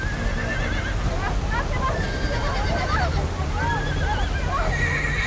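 Horses caught in raging flood water whinny and neigh repeatedly over a constant loud rush of current, with a narrator talking over the scene.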